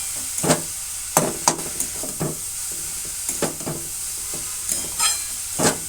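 Grated cauliflower fries with onion and garlic in a dry pan over medium heat. A spatula scrapes and stirs in slow, irregular strokes close by, over a steady sizzle and hiss.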